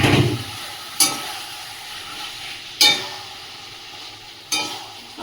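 Mutton pieces go into a hot pan for a thin curry, with a soft continuous sizzle broken by three sharp clatters of stirring or pieces landing.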